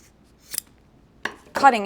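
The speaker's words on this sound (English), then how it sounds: "And then I'm going to cut it just right in the middle." Scissors snipping through canvas banner fabric, heard as a few short, crisp cuts close by in a quiet room, the last one louder and longer.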